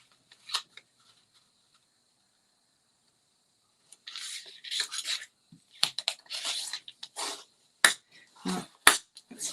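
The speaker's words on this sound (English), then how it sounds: "It's always good to get a good burnish with your bone folder." Folded black cardstock is burnished with a bone folder in short, quiet rubbing strokes, a single brief swipe and then a burst of repeated close scraping passes, with no talking.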